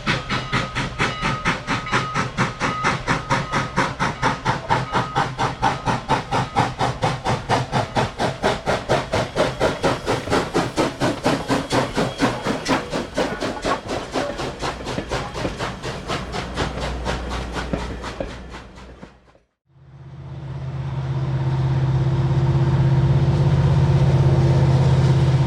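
A steam train on the Strasburg Railroad passes close by with rapid rhythmic chuffing and clatter for most of the stretch, then a sudden break gives way to a loud steady steam hiss and rumble.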